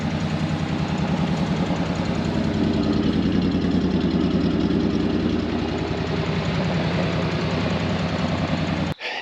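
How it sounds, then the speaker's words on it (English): A 350 Chevy V8 running in a 4x4 Ford Ranchero left sitting over 30 years, a steady, loud, close idle with an even low rumble throughout, cutting off abruptly at the end. "I cannot believe that 350 Chevy runs as good as it does now, and this thing actually drives."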